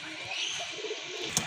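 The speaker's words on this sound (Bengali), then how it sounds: "দেখেন আরেক জোড়া কবুতর" A pair of domestic pigeons kept for sale coo softly, a faint low murmur with a light chirp near the end in a quiet room.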